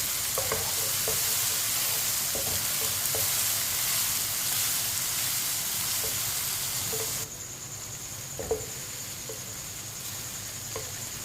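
Chopped tomato and onion cook in a pan, stirred with a spoon, under a steady soft sizzle and hiss, with light scattered clinks and scrapes of the spoon; the sizzle quietens after about seven seconds, with no talking.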